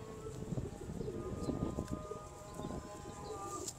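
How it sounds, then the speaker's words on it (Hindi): Pigeons kept in a small loft coo softly in the background, a low murmuring that is faint and continuous amid room noise. "हां, असल जे कबूतर रहे ने"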